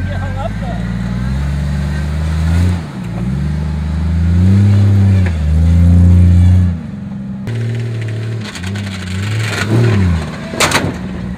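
A Jeep XJ Cherokee engine revs and accelerates in loud, rising and falling surges close by, with a brief sharp clatter near the end.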